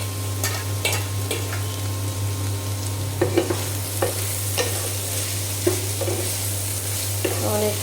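Bitter gourd fries in a pan under a continuous close sizzle and a steady low hum, while the spatula repeatedly stirs and scrapes in irregular strokes; no one speaks.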